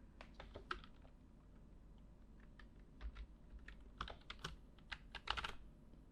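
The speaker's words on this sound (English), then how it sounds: "so I can type all my code here." Quiet, steady clicking of keys on a computer keyboard as HTML code is typed into an editor, with irregular bursts of keystrokes and no speech.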